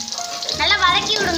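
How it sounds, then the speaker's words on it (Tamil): Shallots, chana dal and green chili frying in a pan, a soft steady sizzle that swells halfway through as the mix is stirred, with a voice speaking over it. "நல்லா வதக்கி விடுங்க"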